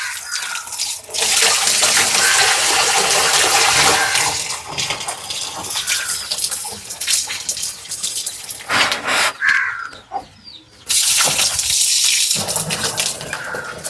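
Water sloshes and splashes steadily as it is poured out of a large aquarium, a loud continuous gush with brief pauses and splashy bursts near the end.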